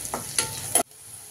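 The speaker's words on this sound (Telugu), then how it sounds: "ఒక పెద్ద సైజు ఆనియన్ కట్ చేసుకొని వేసుకుందామండి. ఆనియన్ కొంచెం ఫ్రై కావాలండి." Chopped onion frying in a pan gives a quiet sizzle broken by three short scraping stirs, then drops to near silence.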